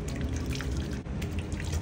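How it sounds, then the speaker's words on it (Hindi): Cold water splashing and dripping as a face is washed repeatedly during hot weather on a trip, a steady close wet patter with a brief dip midway. "बार बार पानी से मुंह धोना पड़ रहा है"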